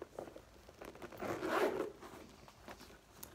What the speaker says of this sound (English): I like the zipper. It's very smooth.